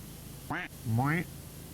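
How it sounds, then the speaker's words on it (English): Cartoonish duck quack sound effect played over a livestream, two short nasal honks in quick succession, loud and close, standing alone with no talk over them. "The duck."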